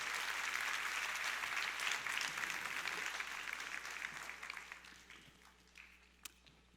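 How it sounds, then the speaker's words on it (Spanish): Congregation applauding in a church service, a sustained wash of many clapping hands that starts strong and gradually thins and fades out toward the end. "dale más fuerte ese aplauso al Señor"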